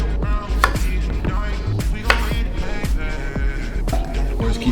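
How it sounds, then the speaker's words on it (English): A knife cuts squash on a cutting board with steady, loud, close chopping strikes, about eight of them, in an even rhythm over a low background hum. "So I like to cut the squash down the middle."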